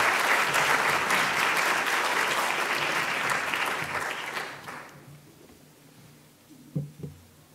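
Dense audience applause welcoming a speaker to a lecture on Manet, loud and sustained for about five seconds before fading out, followed by a few faint knocks in the quiet.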